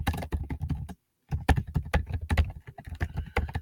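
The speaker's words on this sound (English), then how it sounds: "No, I'm just typing in." Quick, close keystrokes clatter on a computer keyboard in a steady burst, pausing briefly before the typing resumes at an irregular pace.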